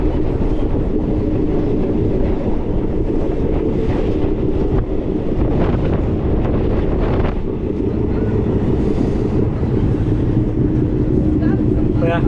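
Train travelling through snowfall on the Srinagar to Banihal line in Kashmir, filmed from the doorway in the cold: a steady, loud rumble of the rolling carriages with wind buffeting the microphone, continuous throughout the clip.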